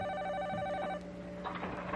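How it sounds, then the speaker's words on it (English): A telephone rings indoors with a steady electronic warble that breaks off about halfway through, followed by faint background rustling and movement. "sounds like the phone's ringing or something somewhere."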